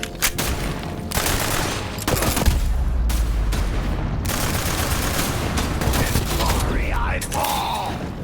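Rapid gunfire bursts from the shooter video game Borderlands 3, loud and sustained with mechanical weapon clatter and a low rumble, continuing almost without pause under game voices.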